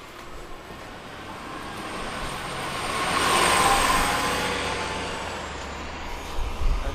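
A 2001 Neoplan AN460 San Francisco Muni bus, number 6260 on the 38 line, drives fast toward the avenues with a steady engine drone and road rumble that swells in the middle and eases off, with no talking.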